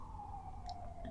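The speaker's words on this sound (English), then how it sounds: "sorry about that siren." A faint emergency vehicle siren wails outside, a single sustained tone that drifts slowly downward, distant and muffled under a low background hum.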